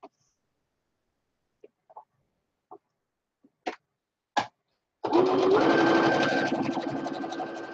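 A sewing machine stitches an apron of flamingo-print fabric, starting after a few soft clicks and handling noises, then running in a steady loud whir for the last few seconds.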